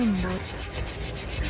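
Steady rubbing and polishing on a yacht propeller, a continuous close abrasive swish with a faint pulsing rhythm throughout.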